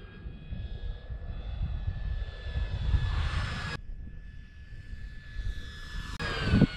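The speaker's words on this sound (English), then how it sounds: "It's getting punished by the wind, the crosswinds," An E-flite 1.2m Corsair radio-controlled plane flies in crosswinds, its electric motor whining at a steady pitch over wind rumble, swelling as it passes close, cutting briefly and returning.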